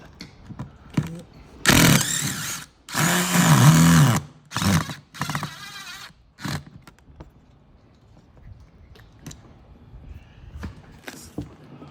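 A power drill boring out rusted screws on the upper belt line of a Monaco motorhome, heard as several short, loud whirring bursts up close, then lighter scattered knocks and handling sounds.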